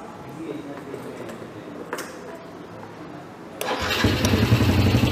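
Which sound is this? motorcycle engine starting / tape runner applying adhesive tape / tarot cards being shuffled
motorcycle engine starting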